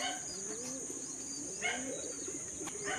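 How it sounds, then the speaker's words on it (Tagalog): A racing pigeon landing at its loft during a derby, coos and soft chirps near and clear over a steady high hum, with a faint flutter of wings. "Nandito na rin yung pangatlong ibon natin."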